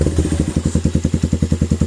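A CR152 motorcycle with a bullet pipe exhaust runs close and loud at idle, thumping in a fast, even pulse.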